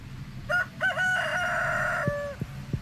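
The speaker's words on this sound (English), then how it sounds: "Get ready for that rooster crowing constantly." A rooster in the video game Stardew Valley crows once, loud and close, a long rising then falling call, with a few sharp clicks and farmyard noise around it.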